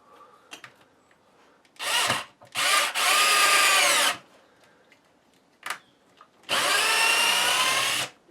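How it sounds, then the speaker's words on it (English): A power drill whirs in several short bursts, then longer runs, driving a screw into wood on a guitar build, with brief quiet gaps between pulls of the trigger. "Got the good old power drill."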